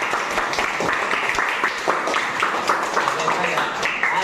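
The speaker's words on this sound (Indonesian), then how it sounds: "kita berikan tepuk tangan" Applause at a school event, a steady crowd of hands clapping continuously throughout, fairly loud and dense, with a voice speaking over it.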